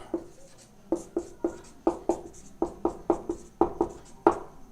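Pen or pencil writing by hand on paper, a series of short distinct strokes and taps in an irregular rhythm, close and fairly quiet, with no voices.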